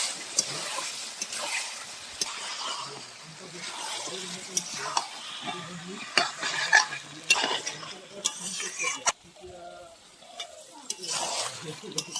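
Goat mutton is stir-fried in a pan until the oil separates. A spoon scrapes and clanks against the metal over a moderate sizzle, with a voice briefly heard at times.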